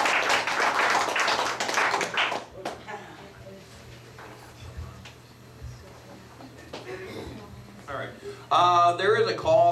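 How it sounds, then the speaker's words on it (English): An audience at the Wild Nights 2012 closing ceremony applauds the crew with a loud, dense burst of clapping that fades after a couple of seconds. Quiet follows, with scattered small noises, then a voice begins speaking near the end. "So I want to give a big round of applause for Draconis and the rest of the crew"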